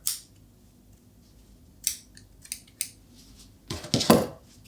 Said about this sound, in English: And then you can go ahead and trim off the excess